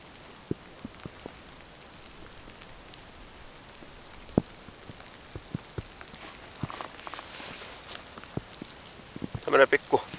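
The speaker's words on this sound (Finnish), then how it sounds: "Alkoi sataa vettä." Rain falling at the edge of a bog, a light scattered patter of drops with occasional sharper close taps and a brief burst of rustling near the end, no talk.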